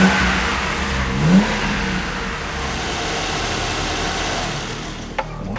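The engine of a BMW 320i E30 revs freely at low rpm, a steady mid-pitched hum with a brief swell early on. It sounds close and continuous, with a small click near the end.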